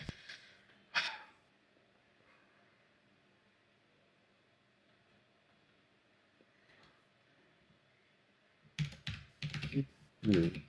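A computer keyboard is typed on in short, faint bursts: a single clatter near the start, then a longer run of quick keystrokes toward the end, with near-silence between them.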